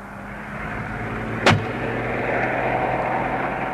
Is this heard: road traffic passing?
yes